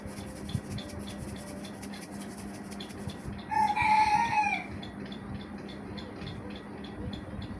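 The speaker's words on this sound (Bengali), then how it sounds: "তো ওদিকে আমার মোরগ ডাকছে" A rooster crows once at moderate distance, a single drawn-out call over quiet background noise and faint ticking.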